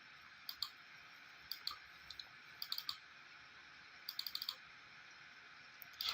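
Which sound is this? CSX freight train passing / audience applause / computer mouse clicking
computer mouse clicking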